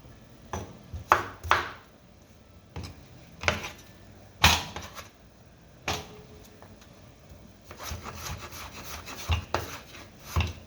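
Irregular knife chops on a cutting board cutting potatoes and carrots, sharp clustered strikes with pauses, then a quicker run of lighter cuts near the end; no talking.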